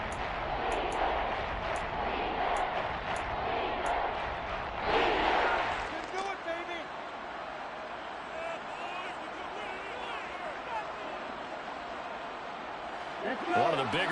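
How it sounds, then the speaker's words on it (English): A football stadium crowd roars steadily through a big third down, a broad wash of cheering that swells briefly, with a commentator talking over it throughout. "The crowd getting into it as we come up on a big third down."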